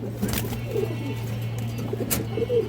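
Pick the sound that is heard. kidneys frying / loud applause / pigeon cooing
pigeon cooing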